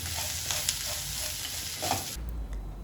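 Curry leaves with salt stirred in a hot pan give a steady close sizzle of frying, with a few scrapes of the spoon, and the sizzle drops off abruptly near the end.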